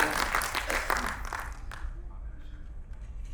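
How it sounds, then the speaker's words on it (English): At a school annual day function, an audience breaks into applause that starts as dense clapping, then fades out after about a second and a half into a quieter hall with voices. "A big round of applause, guys."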